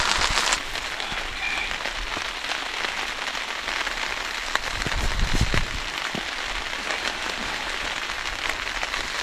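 Heavy rain drums on a tent and tarp at a snowy winter campsite, a dense, loud, continuous patter close overhead with scattered heavier drops and no talking.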